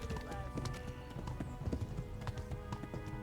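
Horse hooves clip-clop at a steady gallop in the medieval game Kingdom Come: Deliverance, close and rhythmic under game ambience, with brief voice sounds in the mix.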